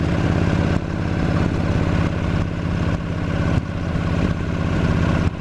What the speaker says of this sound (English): Being in the wrong gear and just give it some throttle and she'll pull herself on up the hill.